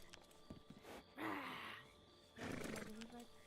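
A voice imitates a long roar in a roleplay video game, two loud sustained bursts separated by a short pause, after brief quieter vocal sounds.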